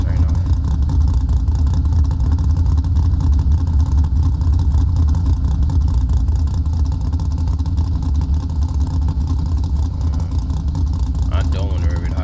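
A Chevrolet Monte Carlo engine in BeamNG.Drive holds a steady low drone throughout, with no clear climb in revs, under continuous talking.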